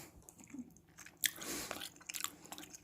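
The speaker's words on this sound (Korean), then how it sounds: "이게 귀 부분이라서 식감이 일반 오징어 같은 느낌이 아니라 약간 아삭아삭한 아삭아삭한 오징어 맛이 납니다" Someone chews crunchy squid ear close up with soft, wet crunching bites and one sharper crisp snap partway through, with no talking.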